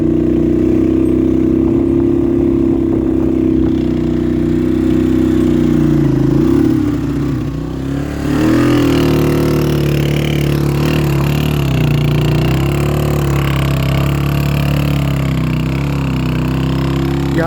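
A motorcycle or vehicle engine runs steadily on a steep mountain road up to a glacier lake in Astore Valley, Pakistan, with a low continuous drone and slight shifts in pitch, loud and close throughout with no talk.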